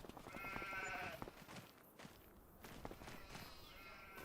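Sheep in the Farming Simulator 25 video game, on a Thuringia map, bleat repeatedly alongside footstep-like thuds, fairly close and clear, with a brief bit of talk underneath.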